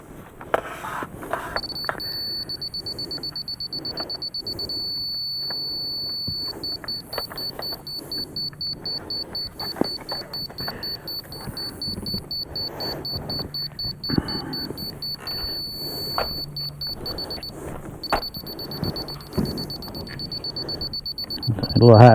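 A continuous high-pitched electronic beep from a level receiver drones, then pulses in rapid repeated chirps for a long stretch, with clatter and handling noises underneath, during finish grading of a lean-to pad.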